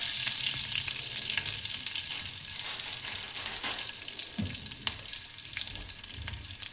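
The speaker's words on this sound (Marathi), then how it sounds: "जिरं टाकत आहे, कढीपत्ता टाकत आहे आणि मिरच्या मी मोठ्या चिरलेल्या आहे" Cumin seeds, curry leaves and green chillies fry in hot oil with a steady, crackling sizzle and occasional sharp pops, close and continuous with no talking.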